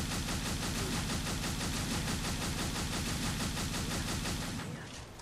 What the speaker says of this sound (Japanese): 超速射を装填数十発分も撃つとこうなります